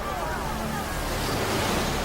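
High-pressure fire hoses blast water at demonstrators during a civil rights protest, a loud, continuous roaring hiss that fills the scene without pause.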